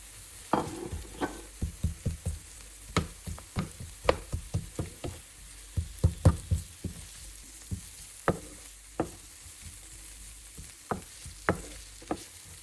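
Onion goes into a pan where spring onion and garlic are already frying, making a quiet sizzle under a string of irregular utensil knocks and scrapes against the pan. The sounds are close by and there is no talking.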